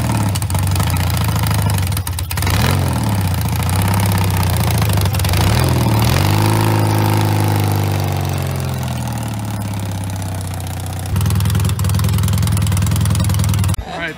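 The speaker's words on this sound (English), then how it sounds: "A full race spec motor." A full race-spec motorcycle engine, freshly built and only run a handful of times, idles loudly outdoors at a soggy motorcycle gathering, with a steady deep throb that swells through a couple of blips before settling back.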